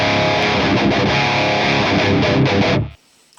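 Overdriven electric guitar played through an EQ pedal set for a Tube Screamer-like tone, a steady, loud run of distorted chords that cuts off sharply near the end.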